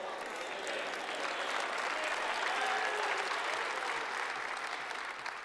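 A church congregation claps steadily during a sermon, dense sustained applause from a crowd filling the room for several seconds without pause.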